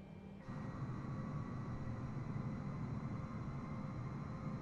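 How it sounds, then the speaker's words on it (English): Jet airliner engines in a flight simulator game, a steady broad roar with a high whine that swells in after a brief quieter start and then holds evenly, with no voices. "You can hear the jet."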